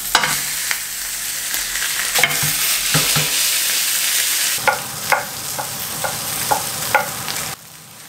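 Osso buco meat searing in a hot cast iron pan gives a loud, steady sizzle with scattered crackles and pops throughout, cutting off sharply near the end.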